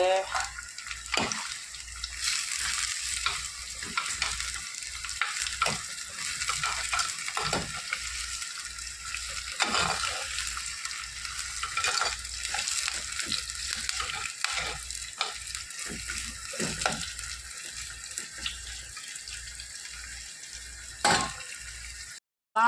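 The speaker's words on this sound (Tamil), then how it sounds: "அரிஞ்சு வச்ச தக்காளியை போட்டுக்கிறோம் ஓகே பண்ணி வச்ச தக்காளியை போட்டு" Chopped tomatoes frying in a clay pot while being stirred, a continuous close sizzle with scraping and clatter of the spoon against the pot, and a voice talking intermittently over it.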